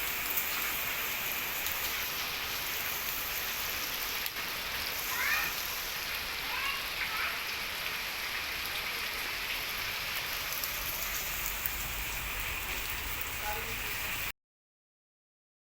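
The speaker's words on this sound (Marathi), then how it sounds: "अरे बघा आवाज आहे का पावसाचा बघा" Heavy monsoon rain pours down steadily, a dense continuous hiss of drops on surfaces close by, with a few faint bird chirps poking through and no talk, cutting off abruptly near the end.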